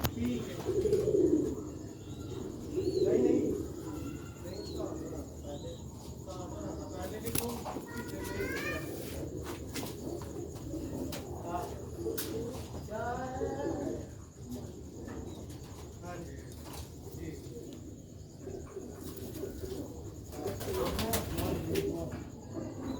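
Rooftop pigeons coo repeatedly at close range, rolling calls rising and falling among a flock, with someone talking intermittently over them.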